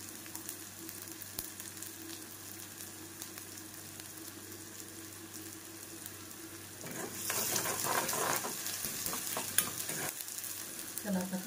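Onion fries in oil in a home kitchen pan, a steady close sizzle that swells louder and crackles more busily partway through, with no talking.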